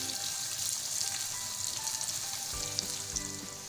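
Onions fry to golden in a pan for a beetroot mutton curry, giving a continuous close crackling sizzle with fine popping, joined near the end by a low rumbling hum.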